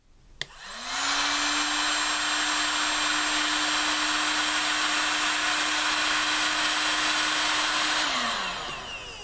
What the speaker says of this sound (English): if we put a hot air gun here, put the heat shrink into the position so it covers the solder joint